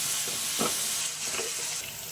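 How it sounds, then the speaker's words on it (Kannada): Eggplant frying in oil makes a steady sizzling hiss, broken by a few brief stirring scrapes, close and moderately loud with no talk. "ಬದನೆಕಾಯಿ ಆಯಿಲಲ್ಲಿ ಚೆನ್ನಾಗಿ ಫ್ರೈ ಆಗಬೇಕು."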